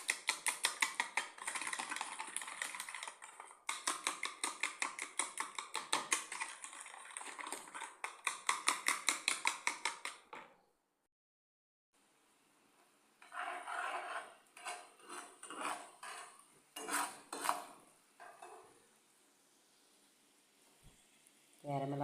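Egg and milk pudding batter whisked briskly in a bowl, fast rhythmic clicking in bursts for about ten seconds, a brief pause, then slower irregular stirring and tapping.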